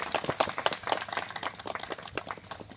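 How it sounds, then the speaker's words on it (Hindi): An audience claps in welcome, a dense run of hand claps spread steadily across the moment at moderate loudness, with no voices over it. "स्वागत जनाइबा समस्त ताली मारिबा"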